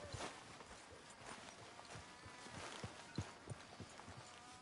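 Horse hooves clip-clopping in the video game Red Dead Redemption 2, a quick, fairly quiet run of uneven hoof thuds over a soft background.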